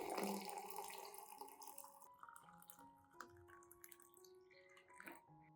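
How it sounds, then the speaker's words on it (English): Boiling water poured into a cup of onion skins, a close splashing gush that settles into softer trickling and bubbling as it fills, with faint tonal ringing underneath. "add 500 milliliters of boiling water to soak the onion skins"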